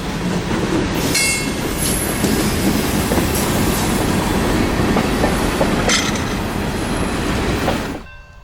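A short freight train rumbles past close by in Florida's Bone Valley, loud and continuous, with clattering wheels and occasional metallic squeals before it abruptly falls quiet.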